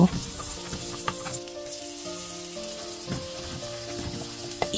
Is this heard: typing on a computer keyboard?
no